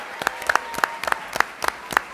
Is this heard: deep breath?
no